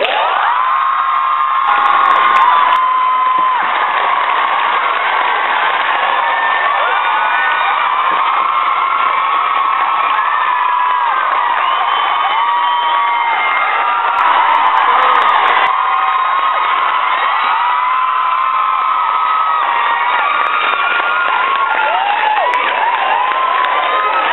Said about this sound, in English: give a big round of applause to James and Oliver Phelps